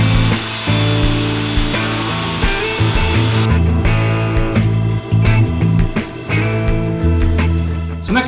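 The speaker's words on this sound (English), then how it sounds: "Now I'll just cut it out with the bandsaw and then I'll fine tune it with the sander." A bandsaw cuts curved wooden rails for a hanging bird feeder, with a loud, continuous motor whine and a rasping blade that changes pitch as the cut progresses, up close and without talk.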